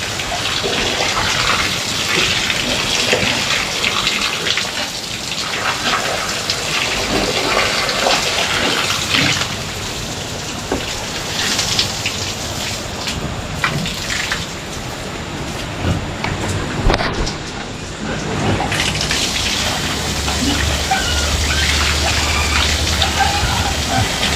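Mountain water rushes and splashes steadily, a loud continuous flow like a stream or pipe outlet, with occasional surges and faint voices under it, at a rural pig pen.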